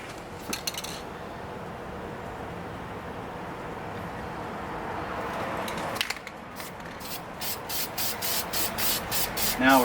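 Spray paint can hissing steadily as gloss black coats a wheel, a long continuous close spray, then a pause and short rhythmic pulses of spray toward the end, with faint voices in the background.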